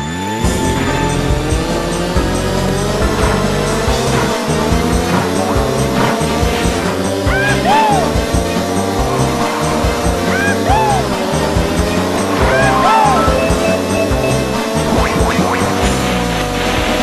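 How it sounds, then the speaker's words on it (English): Engines whine continuously as go-karts race in the Mario Kart video game, with steady motor drone and occasional rising tones from items or effects, loud throughout. "Mario Kart utilizes the racing game formula by adding items and the characters"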